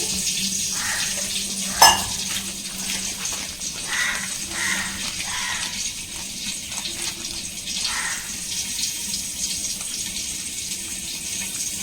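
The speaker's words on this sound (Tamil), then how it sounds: "இங்கே பாருங்க பொரியுது" Parandai chutney ingredients frying in a pan give a soft, steady crackling and spluttering, with one sharp tap near the start and faint kitchen clatter beneath.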